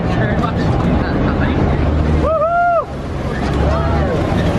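An amphibious tour boat moves through open water in Halifax Harbour, with steady rushing waves and heavy wind noise on the microphone. A brief whistling tone rises midway through.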